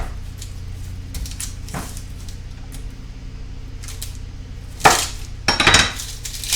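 A knife trims the brown end off an onion on a kitchen board. It makes several light taps and clicks, then two louder knocking chops near the end, all close up with no talking.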